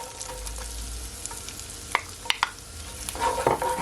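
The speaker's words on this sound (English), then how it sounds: "I'm just gonna allow it to saute for at least another 15 to 20 seconds." Onion sautés in a pot for one-pot chicken and potatoes, giving a soft, steady sizzle with a few clinks and scrapes of a stirring utensil against the pot.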